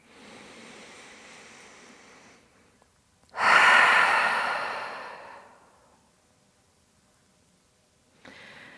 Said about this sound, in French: on vient prendre une dernière grande inspiration par le nez, dernière grande expiration par la bouche